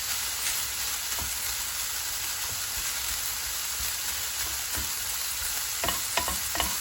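Bacon sizzles steadily in a pan as it is stirred and broken up, with occasional scraping taps of the utensil against the pan and no voices.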